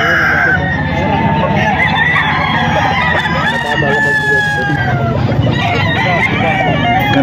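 Peruvian Cross SBR roosters crow and cluck repeatedly amid a busy chicken market in Bocaue, with several birds calling over constant crowd chatter and voices nearby.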